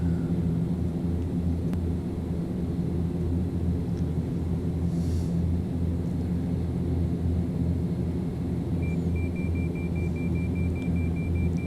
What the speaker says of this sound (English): This airplane has a good climb rate.